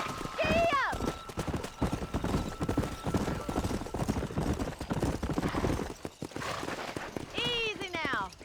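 Horse hooves clip-clop at a run across a Red Dead Redemption game landscape, a fast rhythmic drumming punctuated by whinnies near the start and end, with voices talking over the riding.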